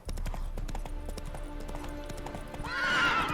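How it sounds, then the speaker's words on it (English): Roach, a spooked horse in The Witcher 3, stamps with clattering hoofbeats and then lets out a loud, shrill neigh near the end. "Spooking my horse."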